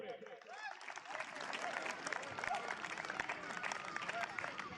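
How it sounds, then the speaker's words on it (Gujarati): Applause for a youth volunteer team at a presentation ceremony: a sustained burst of clapping from a crowd, fairly distant and moderately loud, with some voices mixed in. "તો આવી ટીમ માટે એકવાર જોરદાર તાળી થઈ જાય આપણે"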